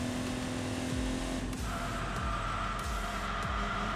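A car engine in the Enthusia Professional Racing video game roars steadily at high revs, with quick pitch drops at gear shifts, loud and constant.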